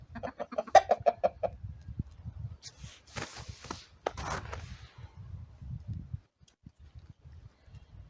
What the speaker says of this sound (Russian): У меня 10 куриц и 2 петуха.